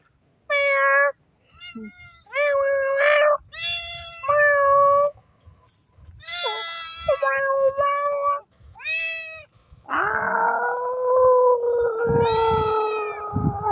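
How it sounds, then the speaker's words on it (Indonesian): A cat meows loudly and repeatedly up close at an abandoned, swampy beach resort, a string of insistent cries ending in a longer, drawn-out wail. "Kucing karo guys, kucing karo."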